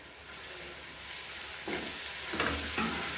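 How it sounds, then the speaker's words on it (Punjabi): Paneer roasts in a pan for cheese chilli, a steady close sizzle and frying hiss running throughout, with brief scraping stirs rising near the end; no talk. "ਮਾੜਾ ਜਿਹਾ ਆਪਾਂ ਸੇਕ ਲਵਾਉਣਾ ਹੈ ਪਨੀਰ ਨੂੰ"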